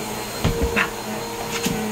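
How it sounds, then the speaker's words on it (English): A household vacuum cleaner runs nearby with a steady whirring drone, punctuated by a few short bumps and knocks, and no talking. "You don't like the vacuum, do you?"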